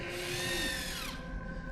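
Power drill whirring loud and steady in a Daredevil TV scene, its pitch sliding downward as it winds down after about a second, leaving a lower hum.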